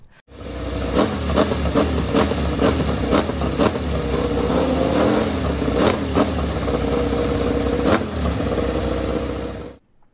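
A Ducati motorcycle engine runs steadily nearby with a rattly, clattering mechanical texture like a sewing machine and a few sharp ticking clicks, continuous for about ten seconds.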